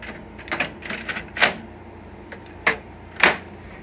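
New fuser module pushed into a Xerox VersaLink B605 printer: a series of close plastic clicks, knocks and sliding scrapes, spaced unevenly, with two sharper snaps as the part seats.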